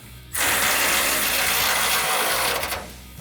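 A ratchet tightens bolts on a 1970 Plymouth Road Runner convertible, giving one continuous loud clicking run of about two seconds that stops abruptly, with no talk.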